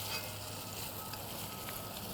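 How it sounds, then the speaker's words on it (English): Oxtail sears in a Dutch oven with a quiet, steady sizzle as the meat browns, a faint continuous hiss without other sounds. "that's the Maillard reaction that's happening right there when that meat starts to brown"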